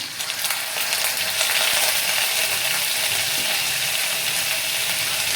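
Whole cumin seeds and ginger paste hit hot oil with a loud, steady broadband sizzle that runs unbroken throughout, close up and with no voices, for a stuffed kakrol (spiny gourd) dish.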